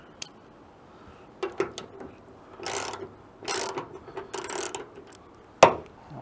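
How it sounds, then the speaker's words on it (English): A bolt on a hood light mount bracket of a Toyota 4Runner is worked with a ratchet wrench, making short bursts of clicking and metallic ratcheting separated by quiet pauses, close and fairly clear. "Then we'll undo the back bolt,"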